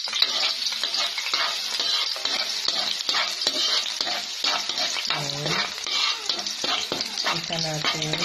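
Garlic fries for spaghetti in a pan with a bright, continuous sizzle, while repeated scraping and clinking stir strokes sound up close and a voice murmurs briefly in the background.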